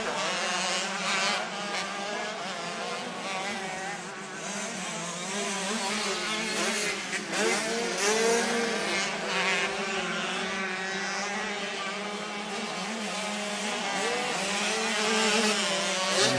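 MX3-class motocross bikes race at a state title round, riders launching off a big tabletop jump. Several engines blend into one loud, continuous drone that rises and falls as riders rev and hit the throttle, with no talk over it.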